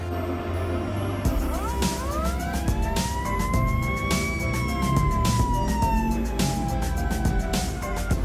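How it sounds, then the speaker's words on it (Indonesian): A fire truck siren wails with rising and falling sweeps, loud and steady throughout, over a busy traffic rumble. "Ini mobil semprot pemadam."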